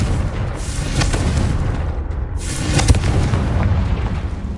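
Confringo fire spell exploding in Hogwarts Legacy: a loud, sustained booming blast with rumbling bursts and a brief dip before a sharper pop near the end, with no talking.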